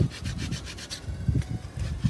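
Sandpaper wrapped on a paint stir stick rubs back and forth against wood in quick, rhythmic strokes, close and fairly quiet.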